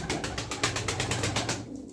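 Domestic tumbler pigeons calling, a repeated soft cooing pulse in quick rhythm, close and fairly steady, with no talk.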